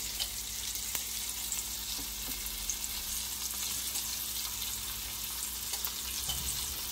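Star of David okra in big pieces, lightly coated in cornmeal, frying steadily in hot oil with a dense, even sizzle and crackle throughout, close and loud.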